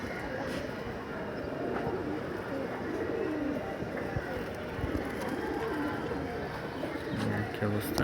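Pigeons in a sky pigeon loft cooing and fluttering amid a busy ambient wash, with a voice talking over the birds throughout.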